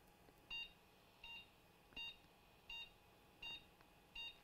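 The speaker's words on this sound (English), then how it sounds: "that board is going to keep beeping until we turn that power supply off" A dead, no-power Asus TUF 4090 graphics card board beeps while its power supply is on: six short electronic beeps at a steady rhythm, roughly every 0.7 seconds, quiet over a faint background hiss.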